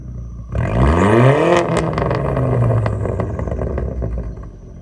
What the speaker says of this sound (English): there's the straight pipe exhaust on a B5